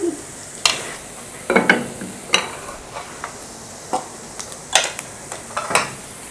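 Sweet boondi batter frying in hot oil in a home kitchen, a soft steady sizzle broken by intermittent scrapes and clinks of a ladle against the pan, close and with no talking.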